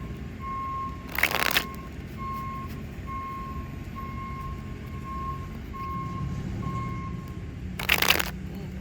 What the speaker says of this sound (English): goodness, this truck.